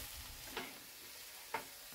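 Breakfast food sizzling in a pan, a soft steady fry hiss with two brief scraping stirs of the utensil, quiet and close.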